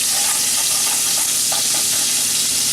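Food frying in a frying pan, a steady, loud sizzle that fills the whole moment, close up and continuous with no talking over it.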